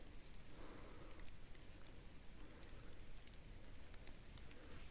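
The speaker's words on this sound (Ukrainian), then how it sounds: "Як бачите, почався невеличкий дощик." Light rain falling in a forest during mushroom picking, a soft continuous hiss of fine drops on leaves with faint scattered ticks, quiet and steady throughout.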